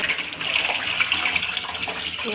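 Tap water running over cauliflower being washed before frying, a brief steady splashing gush at moderate loudness with no voices.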